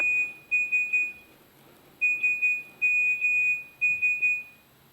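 Retro Nokia brick phone SMS ringtone: a loud, high electronic beep tone pulsing in short and long Morse-code bursts, with brief gaps between groups.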